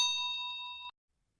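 A single bright notification bell ding rings out clearly, sustains evenly for nearly a second, then cuts off abruptly into silence.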